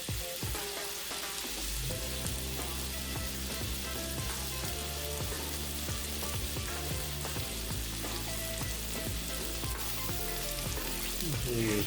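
Frozen shrimp fry in a pan for garlic butter shrimp, giving a loud, dense, continuous sizzle with crackling pops close by, steady throughout.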